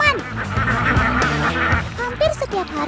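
Alabio ducks at feeding time make loud, dense honking quacks from many birds at once, close by and continuous, with some shuffling noise underneath.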